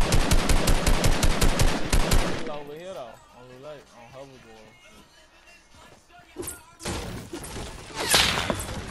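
Rapid gunfire from a Fortnite Battle Royale duo match, a loud dense burst of shots, then quieter talk and game effects before more thuds and bursts return near the end.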